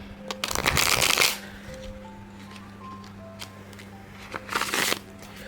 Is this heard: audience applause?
no